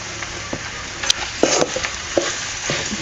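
Mashed potato being mixed and stirred in a pan for potato lollipops, giving soft scraping and squishing strokes at an irregular rhythm over a steady low sizzle.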